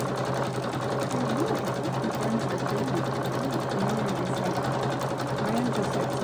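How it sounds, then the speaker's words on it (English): Sewing machine stitching a patchwork cover for a junk journal, running steadily and continuously at close range with a fast rhythmic needle chatter and a low motor hum. "I am sewing."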